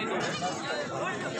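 Goats bleat at a busy goat market, wavering calls overlapping with the murmur of people talking nearby, continuous and fairly close.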